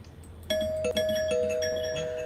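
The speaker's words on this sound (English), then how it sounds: "Oh, somebody's tripping with the doorbell" A doorbell rings out once with a bright two-tone chime that lingers and rings on, heard close with a low background hum.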